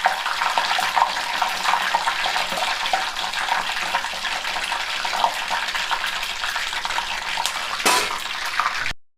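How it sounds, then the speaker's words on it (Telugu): Curry leaves frying in hot oil in a pan, a steady bright hiss and crackle close by lasting several seconds before cutting off, with no talking. "కరివేపాకు వేయించుకుందాం. ఇలా గంటలో పెట్టి వేయించుకోండి,"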